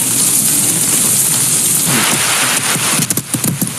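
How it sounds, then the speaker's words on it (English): Rain falls steadily on forest land, a dense hiss of drops with a few sharper close patters near the end and no voices. "After a while, it starts to rain."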